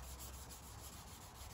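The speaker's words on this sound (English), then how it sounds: "And then once the wet sanding was done" Steady, quiet rhythmic rubbing of fine-grit abrasive paper over wet car paint, close up, with no talking.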